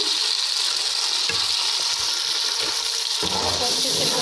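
Blended spice masala sizzles with golden fried onions in a pot for yakhni pulao, a steady bright frying hiss close up with occasional stirring scrapes and a brief voice in the background.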